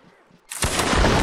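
A volley of musket fire erupts in a video game line battle, starting after a brief quiet with faint voices and turning into a dense, loud, sustained crackle of many simultaneous shots.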